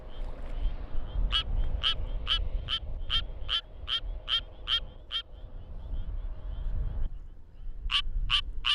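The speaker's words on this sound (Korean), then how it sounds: "드디어 수원 청개구리의 노래가 시작됐다." A Suweon tree frog calls in a rapid series of sharp, evenly spaced clicking notes, pausing briefly, then starting another burst over low background noise.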